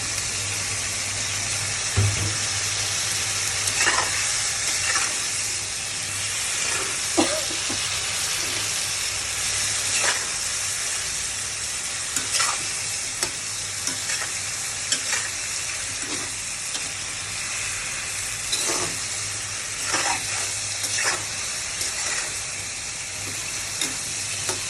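Eggplant frying in oil in a pan, a steady hiss and sizzle broken by repeated scraping and clinking as it is stirred, close and continuous with no talk.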